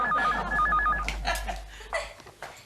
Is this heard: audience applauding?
no